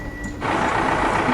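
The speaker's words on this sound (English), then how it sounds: "Excavator." Excavator reversing alarm on a construction machine, a steady loud mechanical drone with a beeping tone starting faintly and the machine noise swelling after a brief pause, close and continuous with no talk.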